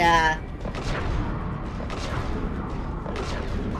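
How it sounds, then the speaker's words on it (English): Rapid bursts of gunfire in Mass Effect 3 repeat over a dense, rumbling background of mechanical noise and booms. "we have these very strong gunshots"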